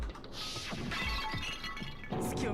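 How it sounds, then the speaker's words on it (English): In the Danganronpa video game, a glass Monokuma bottle smashes over someone's head, a loud close shatter with tinkling shards, then a second crash of breaking glass near the end. "I grabbed a Monokuma bottle from the shelf and smashed it across her head"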